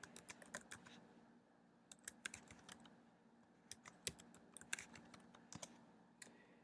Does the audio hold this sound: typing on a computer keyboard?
yes